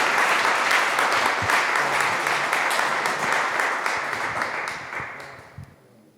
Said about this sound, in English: I ask you to show appreciation to all those people from ISM that you can't see with your applause